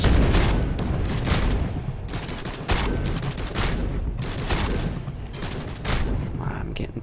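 Gunfire in the video game Space Hulk: Deathwing, a steady rapid barrage of loud shots and booms in repeated bursts that runs through the whole stretch, with brief voices under the din.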